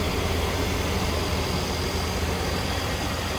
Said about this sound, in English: Nice smooth running V8